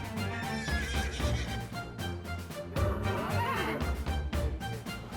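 A racehorse at the starting gate of a race meeting at the Royal Calcutta Turf Club whinnies loudly and repeatedly, with close hoof clatter and stamping around it.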